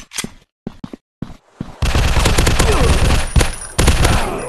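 Rapid automatic gunfire from the video game Zombies Fire Strike in an industrial war setting, loud and dense with sharp bursts, following a few short isolated shots at the start.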